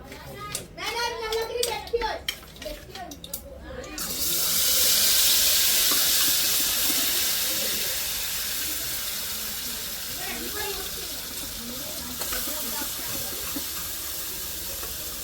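Spice paste mixed with water hits hot oil in a pan and bursts into a loud, steady hiss of sizzling that slowly settles. It follows a few seconds of close talk.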